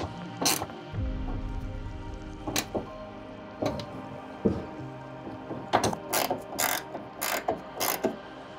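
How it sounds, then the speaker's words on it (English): A 10mm ratchet spanner tightening bolts while fitting an Aeroklas E-Roll electric roller shutter on a 2023 VW Amarok, with bursts of ratchet clicking spread through the clip, loudest and most rapid toward the end, with no talk. "Just got the 10mm ratchet spanner."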